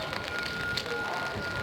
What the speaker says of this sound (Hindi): हल्की हल्की बारिश लगी हुई है